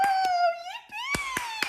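Sharp hand claps sound behind a small child, two quick claps, then a pause while the child vocalizes, followed by three more crisp claps close by.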